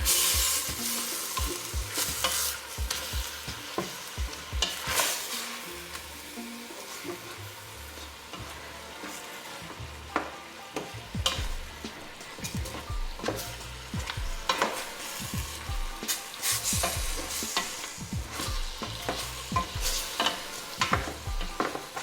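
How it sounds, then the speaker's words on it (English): Oxtails browning in caramelized sugar in a big pot, with a loud continuous sizzle and frequent scraping, clattering stirs repeating throughout. "just to make sure that all the oxtails are browned well and covered with this caramelized sugar."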